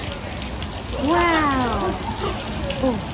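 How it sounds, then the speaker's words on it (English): Steady rain falls outdoors with a constant, close hiss, and a voice briefly exclaims over it. "The rain. It's raining."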